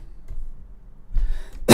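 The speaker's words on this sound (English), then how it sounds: "Didn't mean to cough in your ear." A single abrupt cough bursts out close to the microphone at the end, preceded by a quieter throat noise, during a stock and crypto market livestream.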